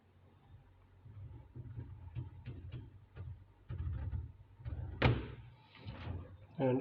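A Hisense RS694N4TCF American-style fridge freezer door scrubs and knocks as it is moved, giving a series of soft rubbing scrapes and clunks, with one sharper bump, while a person talks quietly over it.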